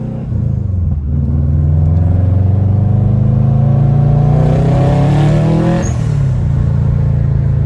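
A built Subaru Forester STI with a modified turbo setup pulls hard under boost, its engine note climbing steadily for several seconds in one loud, close run, then dropping off sharply as the throttle lifts.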